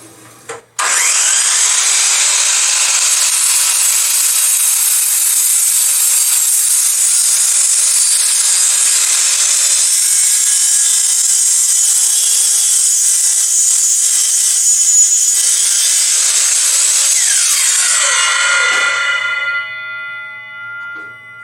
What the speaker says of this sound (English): Okay, now we'll go ahead and square up the end of this board.